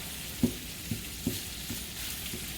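Celery sautéing in a pan gives a soft continuous sizzle, with about five spoon stirs or taps knocking at a steady pace, close by and without voices.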